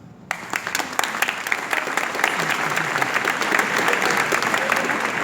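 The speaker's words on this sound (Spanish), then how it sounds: "Un fuerte aplauso para este panel" Sustained applause from a conference audience for a youth panel at the Pacific Alliance youth meeting, starting abruptly and swelling into a dense, loud wash of many hands.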